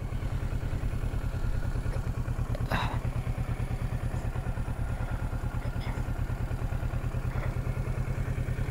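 Motorcycle engine running steadily at a slow, low-speed crawl, with a dense low rumble and repetitive mechanical pulsing, close and continuous with occasional light clatter.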